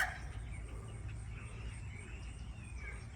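Backyard chickens, a flock including hens, a silky and a male, clucking and gobbling excitedly at a distance, a continuous agitated chatter over a low steady background rumble.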